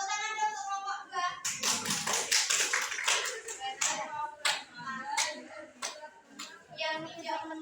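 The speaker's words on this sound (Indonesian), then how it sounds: "tepuk tangan dulu untuk kelompok 2" A classroom of students claps together for a presenting group, dense and lively applause that loosens into scattered claps, with children's voices underneath.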